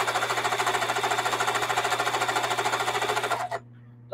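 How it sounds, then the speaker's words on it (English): A sewing machine runs fast and steady, stitching along the edge of a square piece of fabric for a spring tote bag, its rapid even needle chatter close and loud before stopping abruptly near the end. "And now I'm just sewing along the edge"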